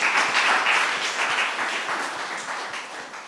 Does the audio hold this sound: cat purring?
no